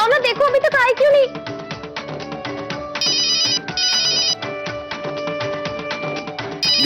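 An incoming call's phone ringtone plays a loud, bright, repeating electronic melody close by, after a short stretch of talk, in a Hindi TV drama household scene.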